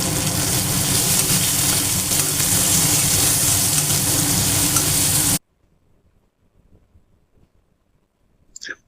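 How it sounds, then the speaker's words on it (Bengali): Finely chopped onion frying in oil with spices for a ridge gourd moong dal, a loud steady sizzle for about five seconds that cuts off abruptly, followed by near silence with faint scraping and a brief sound at the end. "পেঁয়াজটা দিয়ে নেড়ে চেড়ে একটু লাল লাল করে ভেজে নেব।"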